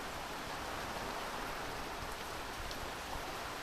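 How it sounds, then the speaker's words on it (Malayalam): Steady, heavy rain pours down close by in a dense, unbroken hiss, with gusting wind mixed into the roar and no voices. "കാറ്റ് കേട്ടോ, നല്ല കാറ്റ്."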